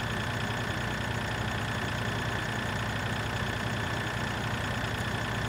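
A tractor engine idles steadily in the Farming Simulator 2013 video game, a continuous mid-to-low rumble that holds an even level throughout with no voices over it.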